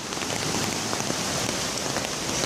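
Dense, heavy rain pours down steadily in Moca during flooding, a loud continuous hiss of drops pattering on surfaces with no voices.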